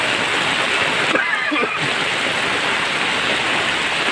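A loud, constant roar of heavy typhoon rain and rushing floodwater fills the street, with a brief dip and some splashing partway through.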